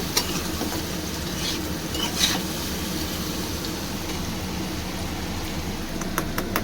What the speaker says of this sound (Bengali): দেখুন এই যে আলুটা কি সুন্দর লাল করে ভাজা হচ্ছে।